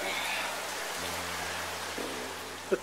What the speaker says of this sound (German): dann setzte der Regenguss ein